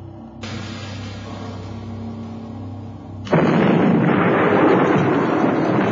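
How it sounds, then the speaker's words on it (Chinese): A dramatized eruption of Vesuvius in AD 79 begins as a low, steady rumble, then breaks into a loud, sustained thunderous blast that roars on to the end, with no voices. "突然一下剧烈的震动，接着是轰然一声雷鸣"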